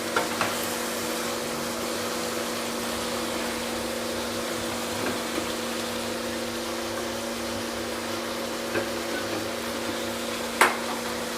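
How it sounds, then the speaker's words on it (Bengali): Fried potatoes and prawns are stirred with spices in a pan, giving a steady, soft sizzle with an occasional light scrape of a spoon, close and continuous with no talking. "এবার এগুলোকে আমি মশলার সাথে 1 মিনিটের মতো কষিয়ে নেব"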